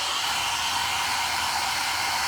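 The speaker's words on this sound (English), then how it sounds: "With the blow dryer, and let's see" A blow dryer runs steadily and loudly, a constant rushing hiss of air with no pauses, close by and alone, drying crackle paint.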